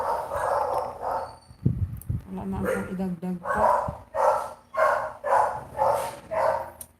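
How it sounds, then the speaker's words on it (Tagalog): Several dogs barking in a steady run of loud, evenly spaced barks close by, with yips and whimpers mixed in, while a person talks over the start. "Sobrang ingay ng mga aso namin dito"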